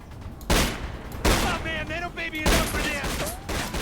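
Pistol gunfire rings out in the video game The Chronicles of Riddick: Escape from Butcher Bay, with three loud bursts of shots over a continuous game soundscape.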